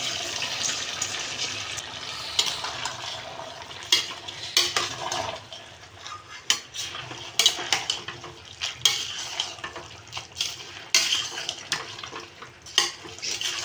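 Rice and mixed vegetables for pulao stirred in a metal pot: repeated scraping clinks of a ladle against the pot in an uneven rhythm, close and clear over a low background hiss.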